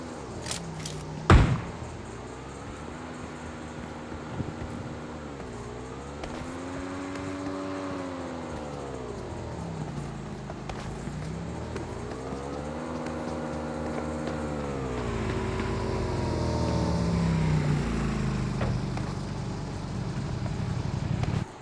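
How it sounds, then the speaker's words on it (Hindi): In PUBG Mobile, a vehicle engine drones nearby, its pitch swelling and falling in repeated revving waves after an early sharp thud, then growing louder and rougher toward the end. "मेरे को यहाँ पे गाड़ी की आवाज़ आ रही थी बहुत देर की"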